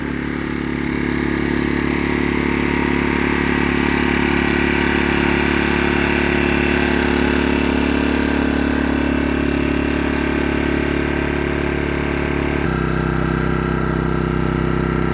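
An inverter generator idles in eco mode while charging a LiFePO4 battery, a steady loud engine drone with clattery overtones that drops to a slightly different pitch near the end, no voices.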